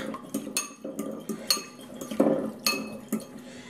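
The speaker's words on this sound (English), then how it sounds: "And we're just going to stir this up." A utensil stirring beef and broccoli stir fry sauce in a small bowl, sharp rhythmic metallic clinks against the dish repeating about twice a second, close and clear with no talk.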